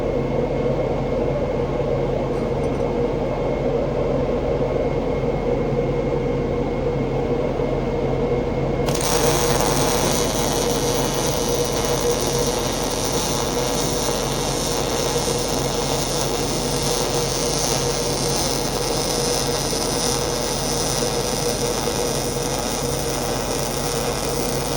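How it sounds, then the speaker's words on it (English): MIG welding a T-joint on tacked steel plates, a loud steady buzzing crackle that starts partway in after a lower hum and then runs continuously without pause, close up and with no talking. "I will do the weld and then I will show you what it looks like."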